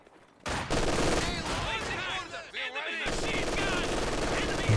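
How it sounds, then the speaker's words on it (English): Machine gun fire in the Company of Heroes 2 strategy game, sustained loud bursts of rapid automatic fire, with game voice lines heard among the shots. "Taking fire from enemy infantry. Fucking machine gun!"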